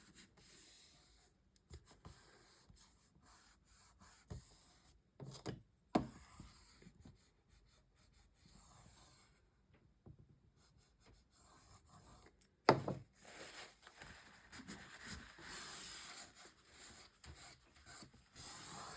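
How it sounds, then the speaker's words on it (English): Paper being burnished down onto an album page, heard as quiet, intermittent rubbing and scraping strokes, with a couple of sharper taps and a busier stretch of rubbing near the end. "I'm just burnishing that down"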